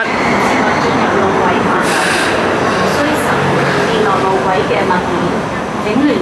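Light rail Phase III two-car set (cars 1094 and 1098), running out of service on route 505, passes through Kin On stop platform 2 in Hong Kong, a loud steady rumble of wheels and carriages close by with faint talk in the background.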